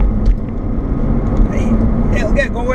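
A 2.5-litre straight-six BMW Z4 2.5i E85 roadster drives along with a steady, low engine drone close by, while someone talks over it the whole time.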